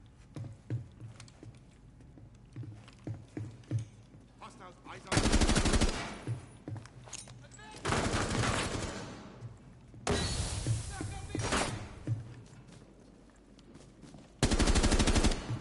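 Gunfire in the video game Rainbow Six Siege: loud bursts of rapid automatic fire in several long volleys, separated by quieter stretches of scattered shots, footsteps and clatter.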